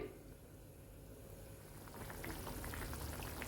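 Soya chunk and potato curry gravy thinned with hot water, coming to the boil in a pan: a quiet steady bubbling hiss that grows busier toward the end, with no voices.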